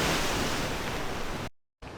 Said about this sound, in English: the waves just hit this rock